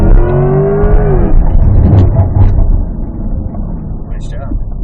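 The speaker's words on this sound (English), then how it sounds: "Straighten out, wide open throttle." A 2024 Corvette E-Ray pulls hard at wide open throttle on an autocross course at Pikes Peak International Raceway, engine note rising loud and close, with a voice talking over it from inside the car.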